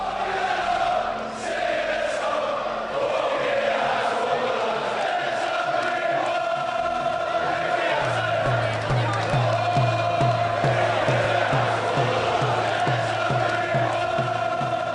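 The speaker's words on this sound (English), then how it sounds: "The crowd was almost entirely pro-Hatton." A packed boxing arena crowd, almost entirely behind Ricky Hatton before his fight with Floyd Mayweather, roars and chants loudly, with rhythmic chanting in the second half and voices heard over the din.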